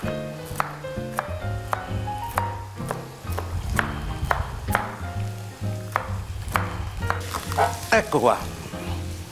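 Radicchio stewing in a frying pan with a little oil, a steady close sizzle broken by sharp clinks and knocks of utensils and background music, with a brief spoken phrase near the start.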